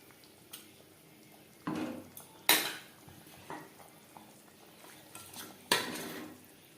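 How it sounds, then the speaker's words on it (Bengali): Fried tilapia pieces are mixed into a bubbling curry gravy in a pan: scattered metal spoon clanks and scrapes against the pan over a faint simmer, with a few sharp louder knocks. "গ্রেভির সাথে মাছ বেশ ভালো করে মিক্সড করে দেব।"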